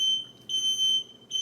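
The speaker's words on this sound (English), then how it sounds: "Set off the smoke alarm." A smoke alarm goes off indoors, its shrill high electronic beep sounding in repeated pulses about every half second to second, loud and steady with no voices over it.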